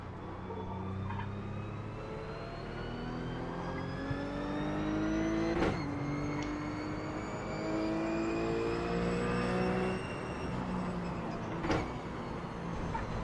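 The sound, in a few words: RUF Cup race car engine in the video game iRacing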